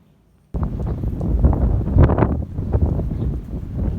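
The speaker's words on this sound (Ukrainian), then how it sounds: "На дворі дуже сильний вітер" After a brief quiet moment, loud wind suddenly roars and buffets the microphone in strong, rushing gusts.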